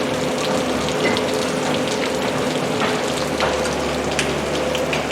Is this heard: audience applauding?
no